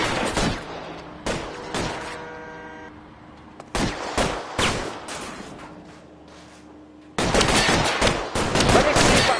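Gunfight from L.A. Noire: loud, sharp shots crack out in separate bursts, with a quieter lull in the middle before heavy, sustained firing resumes near the end.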